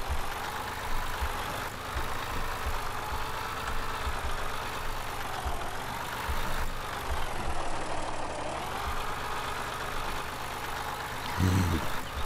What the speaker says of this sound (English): I do like this old beater tractor